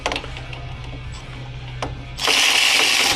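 A 3/8-inch ratchet wrench working bolts loose on a Mopar, a rapid run of small clicking pawl ticks followed by a louder, harsher burst near the end, close by with no talk.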